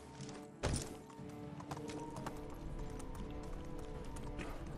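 A horse gallops in the video game Medieval Dynasty, giving rapid rhythmic hoofbeats over steady game ambience, with a brief thump near the start and a voice speaking faintly at times.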